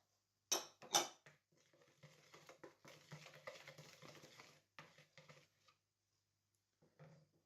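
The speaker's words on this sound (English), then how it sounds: "Put in the wheat grits and mix it." A utensil stirs wheat grits into about 350 millilitres of water in a bowl, making quiet irregular scraping and clinking taps with a couple of sharper knocks at the start, then a pause and a final brief scrape.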